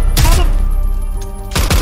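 Loud bursts of gunfire in the first-person shooter video game Zero Hour, with a heavy opening volley, a brief lull of ringing tones, then another burst at the end.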